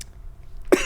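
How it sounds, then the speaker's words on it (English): A single short, sharp cough from a person near the end of a brief stretch of quiet, close and fairly loud. "I'm coughing again."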